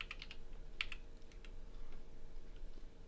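Quiet, rapid clicks of a computer keyboard being typed on, with a cluster of keystrokes early on and then sparser taps, all soft and close.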